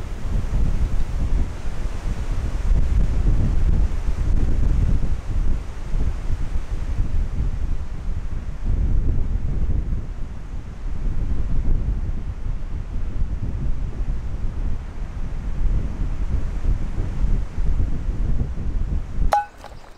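Strong gusts buffet an exposed forest bivouac site, roaring in long waves that rise and ease over the whole span, loud and close with heavy rumble on the microphone.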